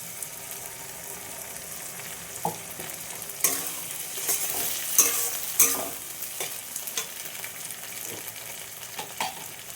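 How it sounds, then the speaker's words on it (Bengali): Ginger, garlic and green chilli paste frying with browned onion in a pan for a jackfruit and prawn curry, a steady close sizzle with a few sharp stirring scrapes and clinks midway, no talking. "আদা রসুন কাঁচা লঙ্কা বাটা দিয়ে দেবো।"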